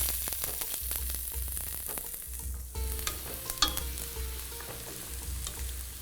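Onion sweating in a pan with bay leaf for a Kolhapuri-style paneer masala, a soft continuous sizzle with stirring sounds over a low electrical hum, fairly quiet and close.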